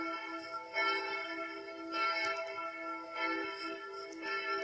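A large bourdon church bell rings in a belfry, its rich, sustained metallic tone pulsing with repeated strikes and long overlapping decays, heard without talk.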